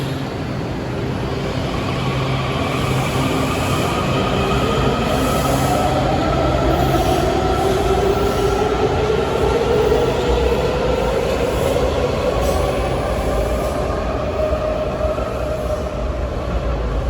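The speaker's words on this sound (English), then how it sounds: "at the same station here comes a Suitland, Maryland bound Green Line train" Washington Metro Green Line train of Kawasaki 7000 series cars, bound for Suitland, Maryland, rolls into the underground L'Enfant Plaza station with a loud continuous rumble, rising and falling wheel squeal and echoing roar throughout.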